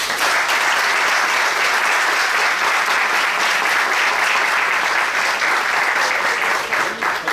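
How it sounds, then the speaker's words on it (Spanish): A room full of people applauds the speakers Rosa Ribas and Ernesto Mallo before their conversation, a loud, sustained wash of clapping that holds evenly for several seconds. "Ernesto Mayo, Rosa Rivas, Ernesto Mayo, un aplauso y que empieza"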